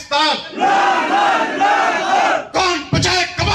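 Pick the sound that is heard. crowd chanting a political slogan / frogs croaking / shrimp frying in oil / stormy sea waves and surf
crowd chanting a political slogan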